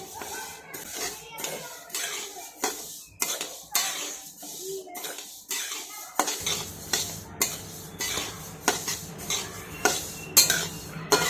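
Sesame seeds dry-roasting in a hot wok over a low flame, stirred with a metal spoon that gives repeated clinking scrapes against the pan, with a soft sizzle growing fuller toward the end.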